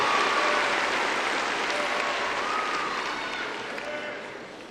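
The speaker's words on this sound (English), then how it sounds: "Let's give them a round of applause." Sustained audience applause fills a commencement ceremony hall, a dense even wash of many hands clapping that stays loud and steady, tapering slightly toward the end with faint voices underneath.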